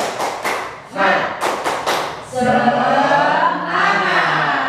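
A crowd of school staff at SDN Soekarto 03 claps the rhythmic Indonesian 'tepuk semangat' cheer: groups of loud, sharp patterned claps in bursts, then a sustained wash of chanting voices and clapping together.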